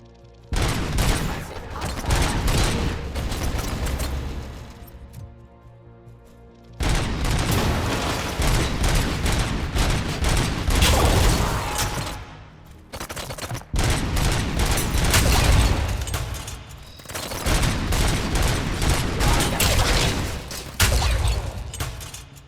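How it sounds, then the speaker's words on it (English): Heavy machine gun fire in RoboCop: Rogue City pounds in long dense bursts with explosive booms and shattering debris, loud and close, broken by two short pauses. "Ooh, that is a heavy machine gun."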